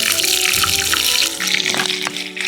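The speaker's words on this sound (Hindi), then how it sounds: "फुल ही तेल गर्म हो चुका है, इसमें मैं डालता हूँ थोड़ा सा हमारा काला जीरा, और उसके साथ में डालता हूँ रेड चिलीज़" Onions, black cumin and red chilies dropped into hot oil for stuffed patal sabji, giving a steady, loud, close crackling sizzle that drops briefly and then continues with bubbly spitting.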